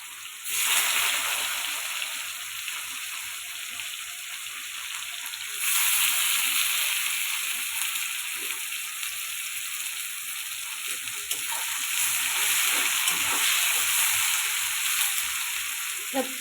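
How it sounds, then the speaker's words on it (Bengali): Chopped onions frying in hot oil in a pan for a Bengali mutton and potato curry, a continuous close sizzle that swells in bursts, with faint stirring and no talk. "পেঁয়াজটা লাল লাল করে ভেজে নিব।"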